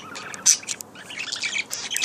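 A young parakeet chirps in a series of short, high twitters and tweets, with one sharper call standing out, close and fairly clear over a soft background.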